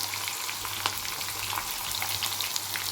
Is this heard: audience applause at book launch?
no